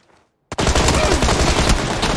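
A sudden burst of rapid gunfire from a battle royale video game, a dense continuous volley that cuts in after near silence and stays loud to the end.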